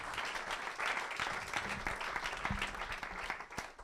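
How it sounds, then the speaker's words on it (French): Audience at a tech event session applauds, a dense, close and steady clapping wash lasting the whole clip and fading slightly at the end. "On les applaudit."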